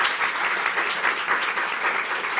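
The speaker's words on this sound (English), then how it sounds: "join me in thanking mental health expert Nicole Hyatt" An audience claps for panel speakers, with steady, even applause from a crowd filling the whole moment.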